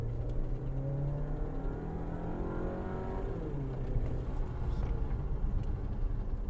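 A 2022 Volkswagen Tiguan SE's 2-litre, 186-horsepower engine hums steadily and builds as the vehicle pulls away, a continuous rising drone with road rumble, no talking.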